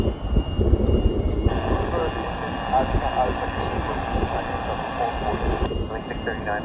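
Airbus A400 military transport aircraft taxiing at an airport in Hawaii, a steady droning engine roar held throughout, with a tonal whine shifting partway and a voice talking over it.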